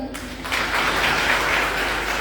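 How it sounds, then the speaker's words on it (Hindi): A crowd at a BJP political gathering in Banswara, Rajasthan breaks into loud, sustained applause after a brief pause, the clapping steady and full to the end. "इसलिए इनके लिए जोरदार ताली बजा दें"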